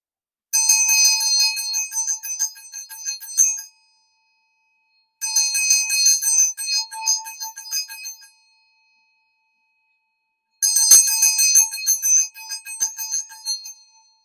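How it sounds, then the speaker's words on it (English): A bright metal vajra bell rings in three separate bursts of rapid shimmering strikes, each lasting a few seconds and separated by silence. "To cleanse the space, I'm going to be using this Vajra bell."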